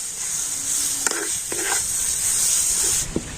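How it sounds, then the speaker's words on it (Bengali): Potatoes tossed with spices in a hot pan, a high steady sizzle with a few scraping stirs and soft clinks of a spatula, close and fairly loud, no talk. "আর এখন আমি সমস্ত মশলা আলুর সাথে কিন্তু খুব ভালোভাবে নাড়াচাড়া করে নেব।"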